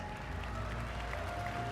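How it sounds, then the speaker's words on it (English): Faint, steady applause from a distant crowd at the CitizenCon 2018 live presentation, a continuous wash of clapping with no voices over it. "Stop clapping."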